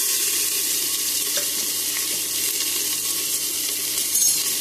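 Whole spices and oil sizzle and splutter steadily in a hot pan for a jackfruit curry, a dense, continuous crackling hiss heard close up with occasional sharper pops.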